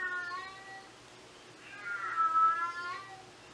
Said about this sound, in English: Hear my cat yelling?